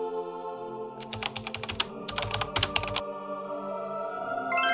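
A web address being typed on a keyboard: quick bursts of close key clicks in two short runs over a steady electronic hum, with no speech.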